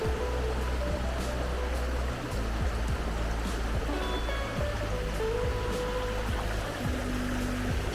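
A flooded burn spilling over its banks, the stream rushing in a steady, broadband roar of flowing water that holds throughout with no break, close and fairly loud.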